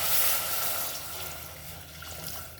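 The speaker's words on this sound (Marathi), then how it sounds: "आता टाकूया पाणी." Water poured into a pan of fried onion, tomato, chilli, coriander and peanuts for upma makes a steady, fairly loud rushing splash that gradually tapers off, with no talking.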